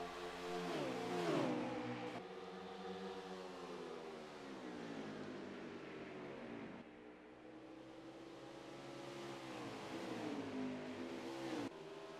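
Race cars roar past at speed, among them Lucas Rittner's car number 42, engines rising and falling in pitch as they approach and pass, loud and continuous with shifting gears and no talk.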